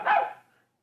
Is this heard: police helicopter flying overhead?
no